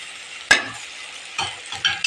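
Ginger garlic paste sautéing in a pan, a soft sizzle broken by three quick stirring scrapes, the first sharp and loud, the next two fainter.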